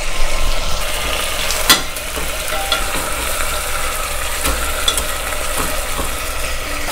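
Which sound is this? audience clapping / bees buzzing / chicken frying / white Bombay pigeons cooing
chicken frying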